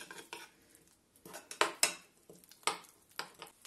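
Sour cream with herbs stirred in a bowl for a fish sauce: a spoon clinks and scrapes against the dish in scattered, irregular strokes, with a few sharper taps standing out close by.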